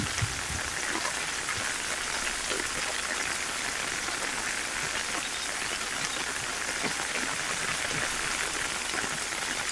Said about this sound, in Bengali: হঠাৎ বৃষ্টিটা দেখে ভালো লাগলো